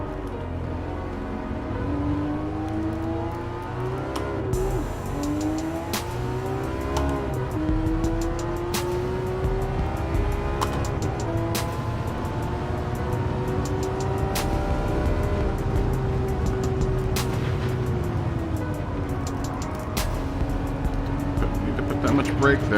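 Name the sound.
car engine in Gran Turismo 7 video game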